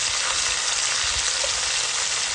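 Beef chunks browning in a hot pan for stew, a steady loud sizzle and crackle of frying with no talk.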